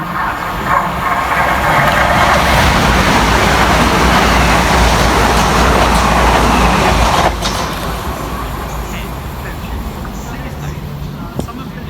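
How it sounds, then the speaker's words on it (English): A 12-coach train stands at a station platform near Merstham, its engine rumbling and wheels rolling loud for several seconds, then fading to a quieter hum. A station announcement plays over it. "This train is formed of 12 coaches."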